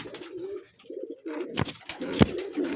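Pigeons in a breeding loft coo in several low, throaty phrases up close, broken by a few sharper bursts of wing or movement noise.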